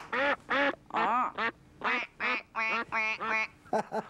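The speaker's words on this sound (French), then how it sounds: "ça elle fait coin, mais quand on appuie sur le petit bouton qui est là" A toy wooden duck, pressed by a button, gives a series of about nine nasal quacks in an uneven rhythm, close and clear, with short gaps between each squawk.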